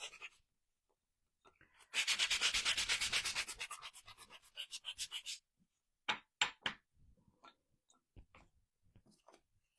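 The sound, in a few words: sanding the edges of a wooden piece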